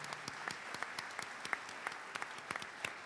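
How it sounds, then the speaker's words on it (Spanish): Audience applause at a tribute gathering in Argentina, a steady wash of many hands clapping with sharper individual claps popping out, fairly distant and even throughout. "Este aplauso es para ellos,"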